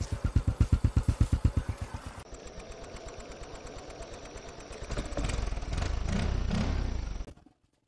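A repaired motorcycle engine runs, starting with a pulsing idle, then a steady hum that rises into a sustained rev near the end before cutting off, close up with no talking.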